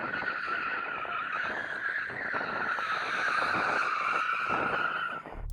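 A Mercedes-AMG A45 S launches hard in a drag race, its tyres squealing loudly and continuously with engine noise beneath, the screech holding steady for several seconds before cutting off abruptly.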